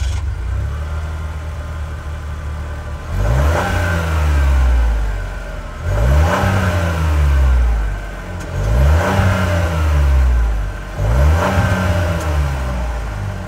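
The 1.3 liter turbocharged three-cylinder engine of a 2024 Buick Encore GX Sport Touring idles, then revs up four times in regular bursts, each sharp rise falling back to a low idle.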